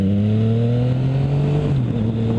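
A Yamaha FZ-09 motorcycle pulls away cleanly from idle with stock gearing, its engine note climbing steadily and then shifting pitch briefly near the end, loud and close with no talking.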